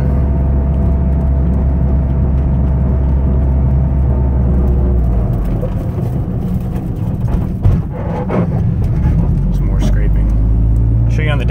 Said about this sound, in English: You can hear the intake,